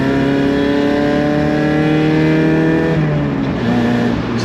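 A Mazda MX-5 Miata with its exhaust valves closed idles and revs in a steady, smooth, fairly quiet drone, then drops in pitch near the end, with no talking.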